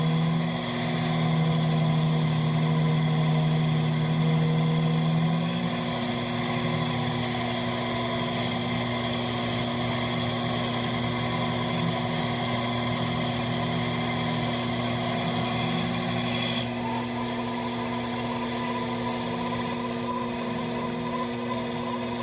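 A lathe's electric motor hums steadily and continuously at close range, with a constant whine and slight shift in tone partway through.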